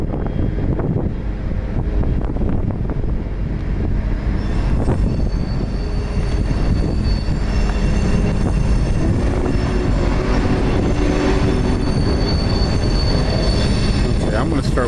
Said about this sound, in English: There's another train here apparently that took the siding for this one to go through.